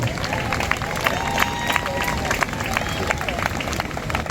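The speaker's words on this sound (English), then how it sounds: "Please give them a round of applause." Crowd applause at an outdoor political gathering, a continuous dense patter of many hands clapping with cheers and chatter, steady and loud throughout.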